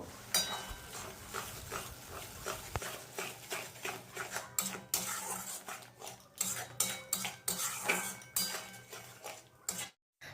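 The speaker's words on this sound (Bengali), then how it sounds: "তো সমস্ত লাউ পাতা বাটা দিয়ে খুব সুন্দর করে দেখো ঘোটানাটা করে মিশিয়ে নিলাম।" Bottle gourd leaf paste being stirred in mustard oil in a pan, with a steady run of close utensil scrapes and metallic clinks against the pan and no talking.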